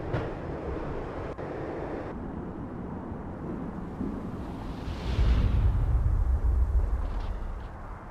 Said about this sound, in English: When the train he was riding slowed down, Gognitti made his move.